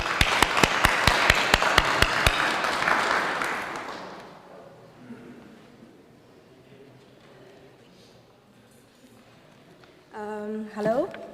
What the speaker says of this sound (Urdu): تو ہم زوردار تالیاں سارا کے لیے بجائیں گے